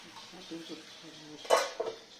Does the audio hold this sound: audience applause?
no